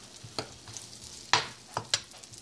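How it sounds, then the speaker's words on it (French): Finely sliced onion cooking in oil and butter in a frying pan, heard as a faint, quiet sizzle with several short scraping stirs and clicks of a utensil against the pan. "dans ma poêle ici, avec un peu de l'huile et du beurre, j'ai ajouté l'oignon coupé très finement."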